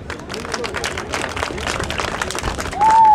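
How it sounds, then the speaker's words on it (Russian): Audience applause fills the hall at a boxing match as fighters are introduced at ringside, a steady broadband clatter of many hands with crowd murmur, ending with a brief sharp whistle. "Ваши аплодисменты!"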